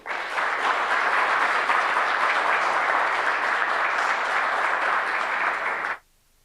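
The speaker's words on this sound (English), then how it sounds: "Please give yourselves and Siba a big round of applause" A large audience gives sustained, dense applause to close a launch event, holding steady for about six seconds before stopping abruptly.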